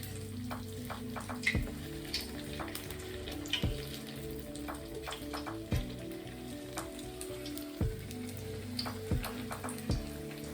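Onion and vegetable fritters in a ladle frying in hot oil, a dense continuous sizzle and crackle broken by periodic clinks and taps of metal, close and steady.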